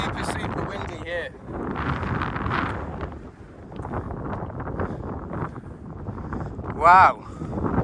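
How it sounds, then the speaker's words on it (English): Heavy wind roars across an exposed cliffside walk, a steady, loud buffeting rumble that rises and eases in gusts, with someone speaking briefly over it. "Super windy here."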